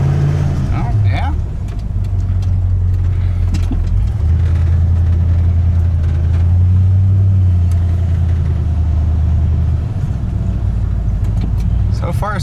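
A junkyard project truck's engine idles steadily in a close, continuous low rumble, with brief throttle blips, while people talk nearby.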